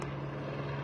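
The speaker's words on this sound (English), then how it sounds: "Helicopter is flying over the scene." Helicopter flying overhead above a police scene with canine units, heard as a steady low droning hum with a constant engine tone, fairly faint and brief.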